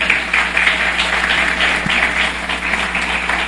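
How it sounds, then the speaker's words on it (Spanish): A congregation at a Spanish-language Christian sermon applauds, a loud, steady roar of clapping, dense and evenly sustained over a low constant hum. "Denle un aplauso a Jesús"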